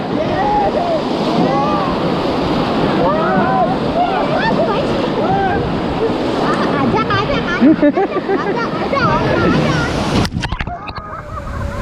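River rapids rush and splash loudly around a raft in Kullu-Manali, a continuous churning roar of water with heavy sloshing, while people on board shout and talk over it.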